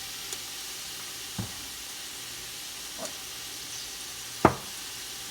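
Olive oil sizzling quietly in a heated pan while spaghetti sauce is being cooked, a faint steady hiss broken by a few soft clicks and one sharper knock of a utensil against the pan.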